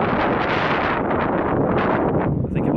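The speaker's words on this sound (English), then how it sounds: "I think it might be too windy to vlog actually." Strong wind buffets the microphone in a loud, continuous roar with gusty surges and no other sounds.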